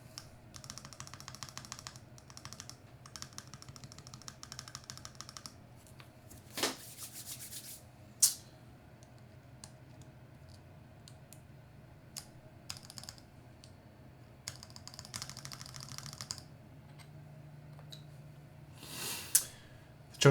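Keys clack on a custom mechanical keyboard in scattered bursts of quick typing, close and fairly quiet, with a couple of louder knocks and pauses between runs and no speech.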